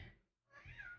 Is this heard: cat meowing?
yes